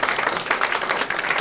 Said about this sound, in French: Les applaudissements sont pour vous.